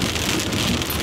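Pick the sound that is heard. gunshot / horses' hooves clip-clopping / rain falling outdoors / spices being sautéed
rain falling outdoors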